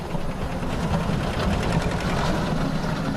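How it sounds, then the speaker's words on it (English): A 20,000-strong swarm of Africanized honeybees, stirred up by a tractor's vibrations, fills the air with a dense, continuous buzzing drone that stays loud and steady throughout. "The buzzing grows louder by the second, until all other noise is completely drowned out."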